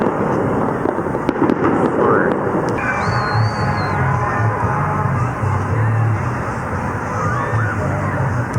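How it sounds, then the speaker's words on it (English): Fireworks pop and crackle in a rapid, continuous barrage at the Colorado State Capitol in Denver, loud and close, with a crowd yelling and cheering underneath the bursts. "I had no idea there were 9 p.m. fireworks."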